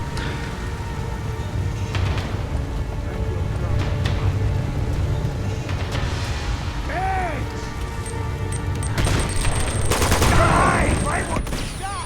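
Rapid bursts of automatic gunfire from a firefight in the PS5 game Uncharted 2: Among Thieves, loud and sustained throughout, layered with game effects and a swelling rush of noise near the end.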